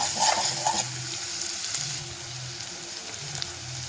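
Onion and tomato sauté in a pan for tomato millet rice, a steady close sizzle with a few scraping stirs near the start and a faint low hum, no voices.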